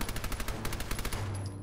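Automatic weapon fire in the video game Fallout 4 crackles as a rapid run of a dozen or more shots over about a second, then stops and leaves a short tail.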